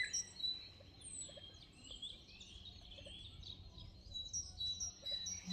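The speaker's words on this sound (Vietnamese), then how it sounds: "Lưới trên là chim nó chỉ bay ở trong này thôi." Birds chirping and calling inside a netted zoo aviary in Germany, a scatter of faint, quick high tweets that repeat at a distance over a quiet background.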